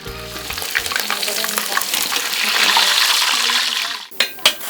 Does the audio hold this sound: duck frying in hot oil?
yes